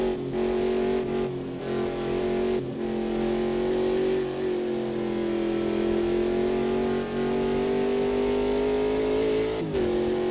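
A GT4 racing car in Automobilista 2, raced in a series event, holds full throttle with a loud, steady high-pitched engine howl that wavers slightly, then dips sharply near the end as if shifting gear.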